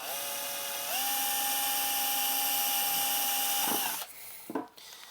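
A drill bit cuts steadily through metal sheet for a tube phono preamp chassis, a loud sustained whine that rises in pitch after a second, runs for about three seconds, then winds down to quiet with a couple of brief knocks.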